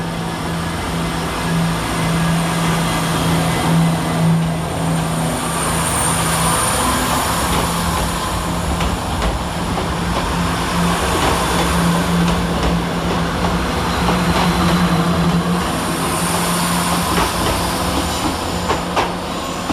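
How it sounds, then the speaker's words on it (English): Chiltern Railways units 168322 and 168110 on the 17:37 service to Birmingham Moor Street at London Marylebone, a steady diesel engine drone with rolling wheel noise and clickety-clack, continuous and close. "your final train of the session is 168322 and 168110 with the 1737 Chiltern Railway service to Birmingham Moor Street"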